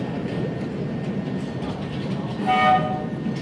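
A model train passes at a model railway exhibition in Rijswijk: a steady rolling rumble with hall noise, and a brief horn-like toot near the end.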